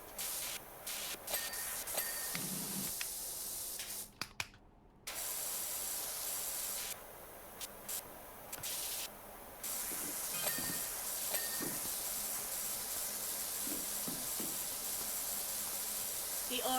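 Pressure washer spraying in Power Wash Simulator, a broad hiss that runs in long bursts and cuts off briefly between passes, with talk faintly underneath.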